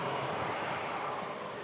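An Airbus A350-900 airliner at Manchester Airport during a storm gives a steady, loud broadband engine roar that holds evenly for the whole short stretch, with no voices.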